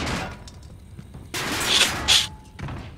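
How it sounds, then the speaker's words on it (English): Aircraft gunfire from a VTOL in the Modern Warfare video game, heard as a few loud bursts of rapid shots and booms cutting in over quiet game ambience. "the VTOL shooting things is just so loud"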